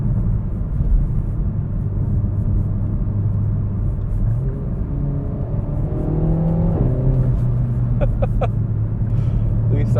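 Renault Megane RS 300 engine droning and revving at low pitch from inside the cabin while crawling in traffic, with a steady rumble and a rising rev sweep midway.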